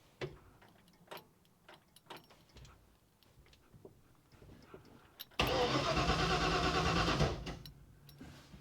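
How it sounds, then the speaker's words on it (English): A car engine cranking in a garage, heard as a loud, steady churning whir of about two seconds. It is preceded by quiet ticks and clicks. "Let me see if we can get crank."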